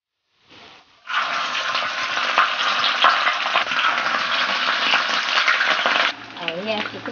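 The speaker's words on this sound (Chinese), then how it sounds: "现在把带鱼裹成鸡蛋液， 下锅煎一下。" Egg-coated hairtail fish, cut and marinated with scallion and ginger, drops into hot oil and sizzles loudly and steadily for about five seconds, after a faint hiss and before a quieter scraping stir at the end.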